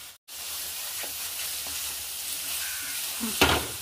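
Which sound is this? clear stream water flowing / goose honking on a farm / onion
onion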